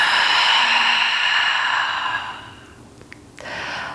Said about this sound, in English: Getting centered here with a full breath in and a full breath out